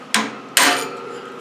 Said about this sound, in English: we're just going to take a ball peen hammer and we're going to knock out the side of this